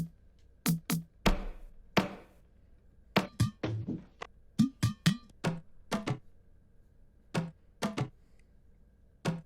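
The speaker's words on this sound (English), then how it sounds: "So these are the percussive sounds that I used." Dry, sparse percussion hits for a remix track, sharp knocks and ticks separated by silence in an uneven rhythm, close and clean with no voices.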